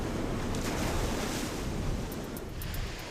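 Rough Southern California ocean surf crashes near a pier, a loud, continuous roar of breaking waves with wind buffeting the microphone.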